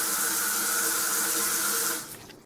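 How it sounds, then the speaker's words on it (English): Tap water from an off-grid water system running steadily into a sink, a loud even hiss and splash that cuts off abruptly near the end, with no voices. "Then it comes right to the sink, and then you just turn the sink on and run the water."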